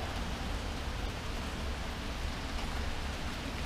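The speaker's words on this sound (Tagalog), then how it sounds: "So, maulan pala ngayon guys dito." Steady rain falls outdoors in a dense, even hiss that holds without a break for several seconds, moderately loud, with no voices.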